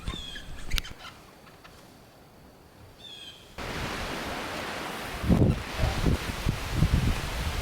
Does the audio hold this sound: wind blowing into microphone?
yes